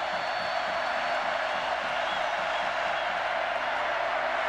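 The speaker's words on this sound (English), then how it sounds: "The crowd rocking" A packed college football stadium crowd roars steadily during an Oklahoma at Texas A&M game, a dense, even wash of cheering noise with faint low rhythmic thumping beneath.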